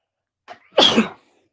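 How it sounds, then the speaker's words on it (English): A short intake of breath, then one loud, explosive sneeze at close range, followed by silence. "And I'm going to sneeze."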